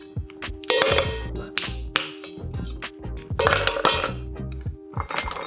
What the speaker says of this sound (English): We're gonna take a big piece and break it up into the tin